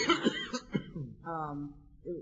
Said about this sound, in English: who is currently having a coughing fit